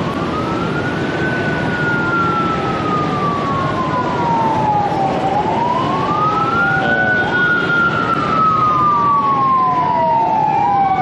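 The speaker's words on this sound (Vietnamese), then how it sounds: "rồi xe cứu thương đi đường này vô nữa, thôi mình nhường cho nó đi đi" Ambulance siren passing along a busy street in Saigon's Cho Lon district, a loud wailing tone rising and falling in long sweeps, close by over dense traffic noise.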